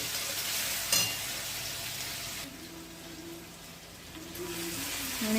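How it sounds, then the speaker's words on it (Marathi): Two finely chopped onions sautéing with cumin seeds and two bay leaves in a pan, a broad constant hiss that grows quieter midway and then swells again, close by, with no talking. "हा बारीक चिरून कांदा, 2 कांदे मी बारीक चिरून घेतले आणि ते छान परतून घेणार आहे"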